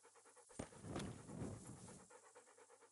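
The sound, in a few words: dog panting in video game Kingdom Come: Deliverance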